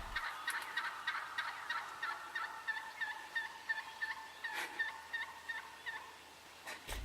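Wild turkey toms gobbling in an Illinois field during a spring bow hunt, with repeated sharp gobbles and calls from several birds at varying distances, some near and loud, others fainter, with no talk.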